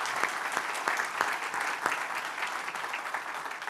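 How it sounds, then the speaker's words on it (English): A crowd claps steadily at an annual meeting and awards event, a continuous even wash of applause with a few sharper individual claps standing out near the front. "we can do the applause in sections"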